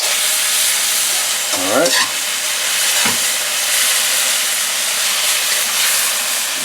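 Garlic sizzling in a very hot pan, a loud continuous hiss and crackle close by, with a brief word spoken early and a couple of quick stirring scrapes.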